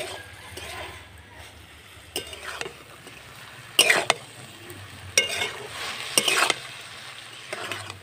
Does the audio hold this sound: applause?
no